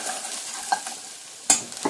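Paprika stirred in a pot over low heat for Castilian garlic soup: gentle frying hiss with a few distinct spoon scrapes and knocks, the loudest late on, close and with no talking.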